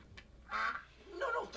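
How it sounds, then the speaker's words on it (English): Cartoon mutant duck from Teenage Mutant Ninja Turtles letting out two nasal quacks about half a second apart, with a short squeak before them, close and clear, no talking. "And it quacks."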